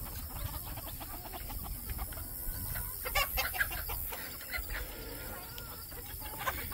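Chickens cluck near the coop, soft irregular clucks and short calls close by over a faint rustling farmyard background.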